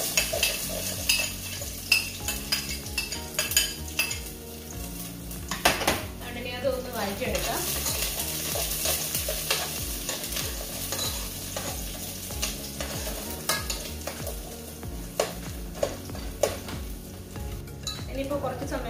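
Chopped ginger and garlic fry in a hot pan of oil with browned fenugreek for a green apple pickle, a steady sizzle under clinking and scraping of a stirring spoon against the pan, close and continuous throughout.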